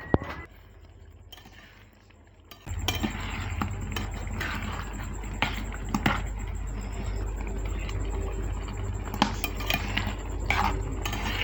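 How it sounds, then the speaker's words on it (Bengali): A utensil scrapes and clinks against a cooking pan while loitta (Bombay duck) fish is stirred repeatedly, making steady, close rattling and scraping over a low background hum. "মাছটা একদম বারবার করে নাড়তে হয়।"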